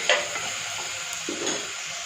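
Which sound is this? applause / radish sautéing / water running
radish sautéing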